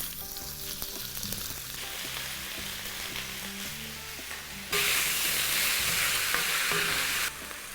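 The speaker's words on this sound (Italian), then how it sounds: "Ora si va in casseruola e si fanno rosolare bene." Meat browns in a saucepan with a steady, close frying sizzle that grows noticeably louder and brighter midway through, with no one speaking.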